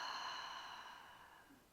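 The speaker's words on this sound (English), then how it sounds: "and exhale." A long, breathy exhale during a hypopressive breathing exercise for the pelvic floor and core, close and steady, fading out gradually over nearly two seconds.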